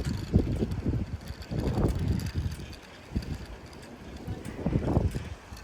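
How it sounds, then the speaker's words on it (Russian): Strong wind at the Odessa seashore buffets the microphone in uneven, rumbling gusts that rise and fall over several seconds. "Очень сильный ветер, море волнуется из-за этого"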